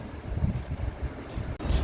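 A fan in a hospital blows air with a steady, broad rushing roar and low rumbling buffeting, close to the microphone, with a brief click near the end.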